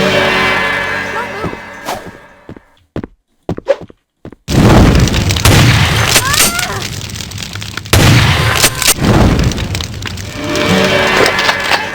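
Shotgun blasts in the video game Vampire: The Masquerade – Bloodlines, a couple of loud, sharp booms with crackling tails following scattered clicks and brief near-silence.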